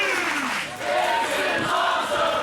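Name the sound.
crowd in Fresno cheering in appreciation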